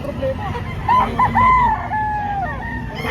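Chickens for sale at a poultry market in Lipa, Batangas, give a rooster's short crow among clucks, close and clear over a low crowd murmur.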